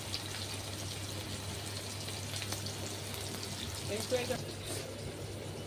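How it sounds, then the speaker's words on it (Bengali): Onions go into hot oil for a Bengali egg curry, giving a soft, continuous sizzle under a low steady hum, with faint stirring noises near the end. "আমার তেলটা হয়ে গেছে, আমি এবার পেঁয়াজ দিয়ে দিই।"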